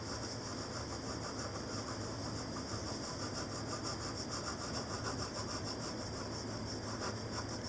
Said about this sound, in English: just dragging the pencil back and forth